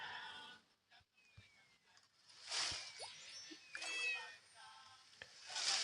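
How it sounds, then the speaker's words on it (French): A cat meows in a Roblox video game, several drawn-out meows with rising and falling pitch over faint background game sounds, moderately quiet. "Oh, cat."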